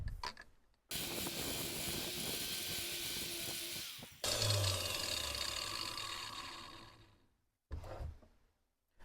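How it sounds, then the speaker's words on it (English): Grinder spinning a Scotch-Brite deburring wheel against metal: a loud, rough whirring roar in two long bursts with a short pause between, then a brief final burst as it winds down. "I'm almost convinced that the grinder itself's not allowing me to get a nice steady surface there"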